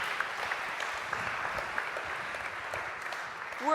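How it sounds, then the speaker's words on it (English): An audience at a literary conversation event breaks into a sustained round of applause, steady dense clapping filling the room for several seconds, swelling slightly at the end. "can we please give that number a round of applause?"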